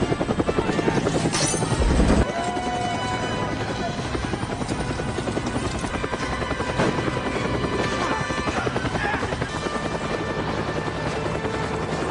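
A helicopter's rotor thumps loudly and continuously nearby, a rapid chopping beat with engine whine, while voices speak over it.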